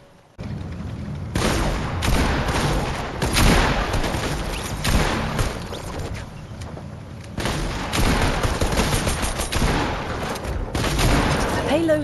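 Sniper rifle gunfire in the video game Fortnite, with loud, dense volleys of shots and booming impacts in long stretches separated by brief lulls, mixed with game voices and chatter.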